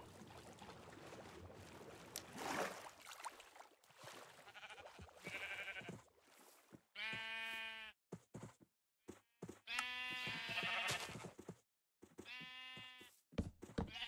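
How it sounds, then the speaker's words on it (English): Minecraft sheep bleating in the game, several distinct wavering baas in quick succession in the second half, clear and fairly close after some quieter game noise. "Ooh, more sheep."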